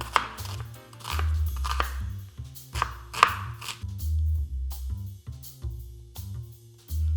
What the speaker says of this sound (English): Chopping onion.